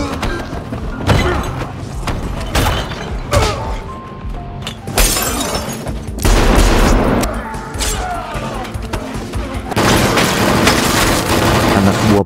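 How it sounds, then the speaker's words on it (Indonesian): Dense, chaotic gunfire and crashing impacts, with loud bursts of shots, booms and shattering debris running continuously throughout, like an action-movie shootout. "Detektif Dennis pun muncul, ikut beradu tembakan"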